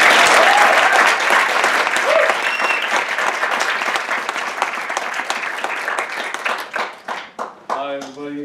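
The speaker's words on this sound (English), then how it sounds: "Let's give a round of applause for Fahad Al-Shamsan." Sustained applause from an audience welcoming a TEDx speaker at Teachers College, Columbia University; dense clapping fills the room and gradually thins into scattered claps near the end.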